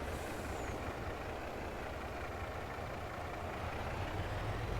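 In Farming Simulator 22, a vehicle engine drones with a steady, truck-like rumble under constant broadband noise, at moderate, unchanging loudness with no talking.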